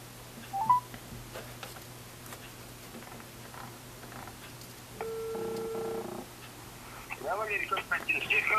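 Telephone dialing with a short run of electronic keypad tones in the middle, near and moderately loud, followed by faint line noise, with people talking before and after.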